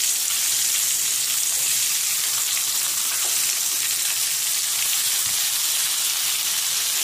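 Aubergine (baingan) slices fry in masala in a pan over low heat, giving a steady, close, continuous sizzle with faint stirring scrapes and no talk.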